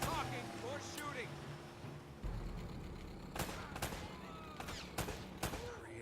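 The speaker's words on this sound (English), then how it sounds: "Less talking, more shooting." Video game gunfire from Uncharted: Drake's Fortune sounds as scattered bursts of shots against a background of game ambience, with several distinct sharp cracks in the second half.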